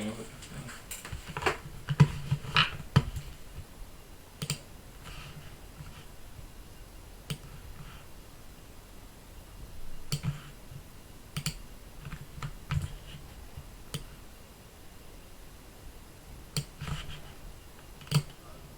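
Scattered keystrokes on a computer keyboard during a live Affinity Designer session, sparse sharp clicks in short bursts separated by pauses, close and fairly quiet, with faint low background murmur.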